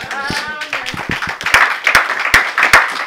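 Church congregation clapping in a loose, uneven rhythm, sharp hand claps building in density over a few seconds, with singing or a voice faintly mixed in at the start.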